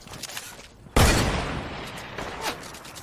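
A sharp gunshot in a video game, probably a sniper rifle, cracks once loudly and close, then trails off into a noisy decay with faint background game sound.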